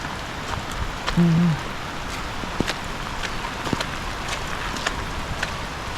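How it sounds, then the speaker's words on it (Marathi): Steady monsoon rain falls heavily on Konkan rice paddies during planting, a dense continuous hiss with scattered sharper drips and taps close by. "जबरदस्त पाऊस पडतो एकदम खतरनाक"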